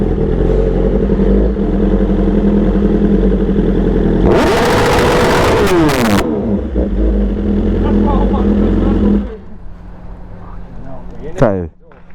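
A BMW S1000RR sport bike engine idles loudly, then blips into a sharp high rev that climbs and falls over a few seconds before settling back to idle and cutting off, with a brief extra rev near the end.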